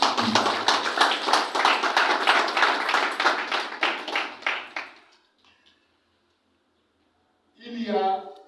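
Children in an audience clap in thanks to supporters at a football club ceremony, a few seconds of loud, rhythmic applause that thins out and stops, followed by silence and then a short spoken voice.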